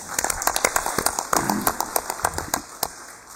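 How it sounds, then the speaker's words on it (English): An audience at a formal event applauds after guests are introduced, a scattered round of individual claps sounding fairly close and uneven rather than a dense roar. "Let's give them a big round of applause"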